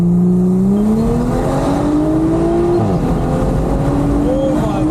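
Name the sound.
Audi SQ5 with stock turbo accelerating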